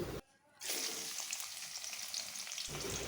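Chopped onion and garlic fry in hot oil in a wok, a loud bright hiss that cuts out briefly near the start, then returns steady and close.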